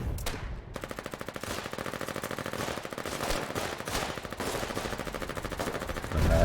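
Gunfire in the frontline war game Foxhole: rapid machine-gun bursts rattle on in dense, repeated volleys, moderately loud, with no voices.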